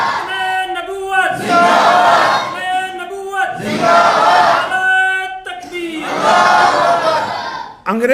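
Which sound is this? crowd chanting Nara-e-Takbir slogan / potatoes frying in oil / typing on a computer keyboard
crowd chanting Nara-e-Takbir slogan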